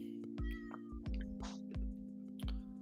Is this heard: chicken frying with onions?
no